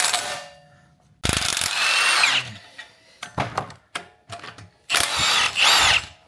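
A pneumatic rattle gun undoes 17 mm bolts on the electric deployable tow bar of a Land Rover Defender L663, firing loud, close bursts of hammering with short ratchety taps and clinks between them.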